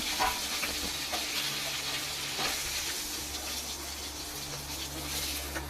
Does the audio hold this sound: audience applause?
no